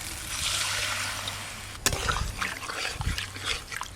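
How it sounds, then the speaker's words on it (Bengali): A little water is poured into simmering egg curry with a sudden splash, followed by bubbling, crackling sizzle and soft trickling at close range. "খুব বেশি জল দেব না, একদম অল্প জল দেব"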